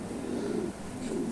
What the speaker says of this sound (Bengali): সাদা কবুতর ডাকতেছে